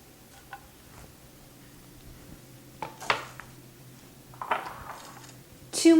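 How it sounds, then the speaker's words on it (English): Diced purple onions dropping into a tablespoon of butter in a pan on a medium stove, with scattered clinks and faint soft sizzling, then sharper utensil taps and scraping toward the end, quiet and close. "I'll place my purple onions in with the 1 tablespoon of butter."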